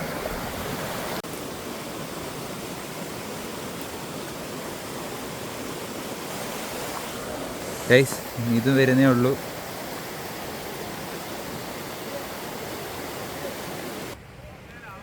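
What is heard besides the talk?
Kaalikesam waterfall near Kanyakumari, flowing water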